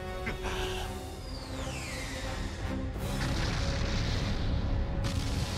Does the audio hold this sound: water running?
no